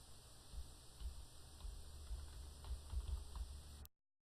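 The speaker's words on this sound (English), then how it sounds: "I'm going to type on-screen keyboard." Soft, faint keystrokes tap away at a steady, uneven pace on a computer keyboard, close but quiet, with no talking.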